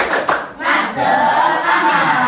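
A group of children claps a rhythmic 'tepuk semangat' cheer in a classroom, loud, close hand claps in a quick burst blending into crowd noise.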